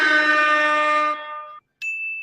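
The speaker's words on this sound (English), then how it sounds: "I got to give you the bell for that one." A bell sound effect rings out on a boxing talk show: a loud, sustained metallic ring that fades after about a second and a half. After a brief silence, a steady, high, pure tone follows.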